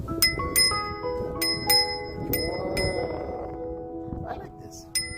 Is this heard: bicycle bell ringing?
yes